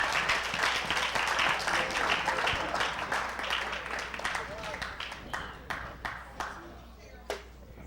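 A church congregation claps together, loud at first, then thinning into scattered, fading claps, with voices and cheering mixed in.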